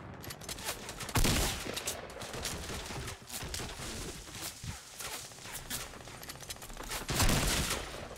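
Video game gunfire erupts in rapid bursts of sharp, loud shots with a few heavier blasts, near and dominant.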